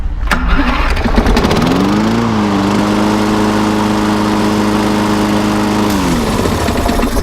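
A Briggs & Stratton easy-start lawn mower engine turns over without a pull rope and settles into a loud, steady running drone close by, then drops slightly in pitch near the end.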